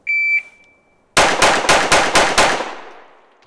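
After a shot timer's two beeps, an S&W Carry Comp 2.0 or Walther PDP pistol fires six sharp, loud shots in quick even succession, each crack ringing out and fading into a decaying echo.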